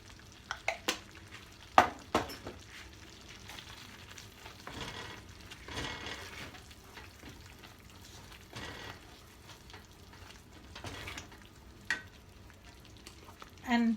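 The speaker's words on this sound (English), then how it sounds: "We'll just saute it nicely in a high flame." Egg curry masala sautéing over a high flame in a pan, a soft steady sizzle broken by scraping stirs and a few sharp clinks of a utensil, quiet and close.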